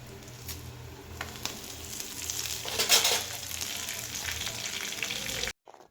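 Hand-torn coriander sautés in a pan on a village-style stove, a close, quiet frying hiss with scattered scraping stirs and one brief louder crackle, cutting off abruptly at the end with no voices.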